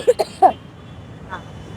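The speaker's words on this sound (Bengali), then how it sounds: "তোমার তো কাশি হচ্ছে" Three short, sharp coughs from a woman in quick succession, close by, at night beside a busy road, followed by quiet room noise and a faint murmur.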